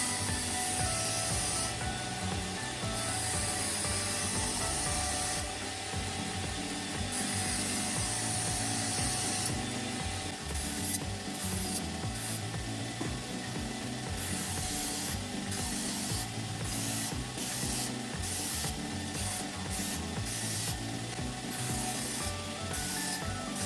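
A Japanese kitchen knife blade of mirror-polished V-Gold No. 10 steel being sanded with 240-grit abrasive, giving a loud, continuous hissing rub with rhythmic strokes that rise and fall steadily.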